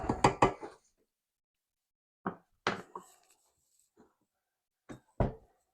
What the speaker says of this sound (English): we gotta use the spatula to get everything off